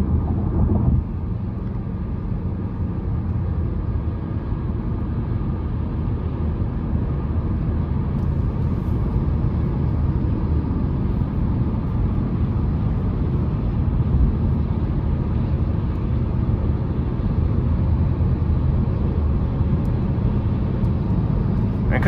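A 2023 Chevy Malibu LT with a 1.5 turbo four-cylinder cruising on the interstate on 17-inch wheels, a steady low road and engine drone with wind rush filling the cabin, continuous and even throughout.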